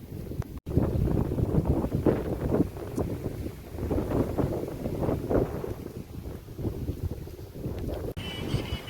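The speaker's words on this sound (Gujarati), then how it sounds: "જો ભાઈ કેટલો પવન છે આમ જોઈ લ્યો." Strong wind blows across a ripe wheat field, a loud continuous gusty roar that buffets the microphone for the whole stretch, with no voices.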